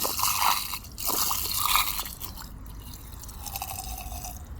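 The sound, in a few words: washing machine drain pump running, water flowing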